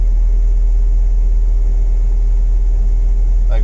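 A 1985 Isuzu PUP 4x4 engine idles warm after a restart, a steady low rumble holding an even, continuous drone close by, with a brief faint knock near the end.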